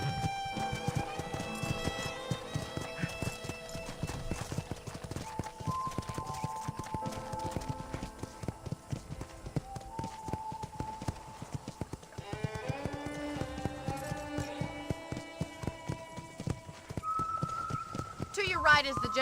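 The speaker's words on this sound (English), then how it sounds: "let's see if you can still ride a horse" Horse hooves clip-clop in a steady rhythm while riding through a ranch property in the Red Dead Redemption video game, with occasional whinnies and a voice talking over the hoofbeats.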